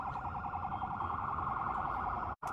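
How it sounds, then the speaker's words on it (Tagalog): An ambulance siren sounding at a gas explosion fire, with a steady wailing tone held loud and continuous before cutting off abruptly near the end. "May ambulansya na rin eh, no, na pumunta."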